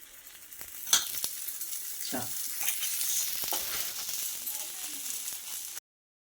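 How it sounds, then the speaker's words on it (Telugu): An oats dosa frying in oil on a hot griddle pan, a steady crackling sizzle with spatula scrapes and clinks that stops abruptly at the end. "మనకి పెనుగు బాగా కాలిందంటే ఇంక వరుసగా వేసేసుకోవచ్చు అండి దోశలు"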